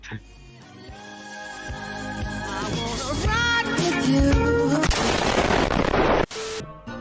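Gunfire from the Roblox game Dead Rails, a dense stretch of repeated shots building in loudness over game music and effects, cutting off sharply near the end.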